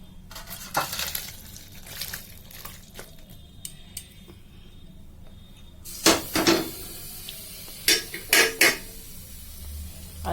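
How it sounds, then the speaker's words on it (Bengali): Cooked soybean chunks are stirred in a metal pan and poured out, with sharp clinks and scrapes of utensil on pan, sparse at first and then clustering in a few louder knocks near the end. "সয়াবিনটা দেখো এরকম লাগবে। এবার নাড়িয়ে নেব। নাড়িয়ে ঢেলে নিচ্ছি।"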